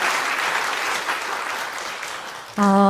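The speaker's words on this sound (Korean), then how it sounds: "모든 분들 위해서 참석한 모든 분들 위해서 박수 부탁드리고요." Loud, steady applause from the congregation at a church thanksgiving service marking a magazine's 70th anniversary, continuing evenly before a sustained tonal sound abruptly takes over at the end.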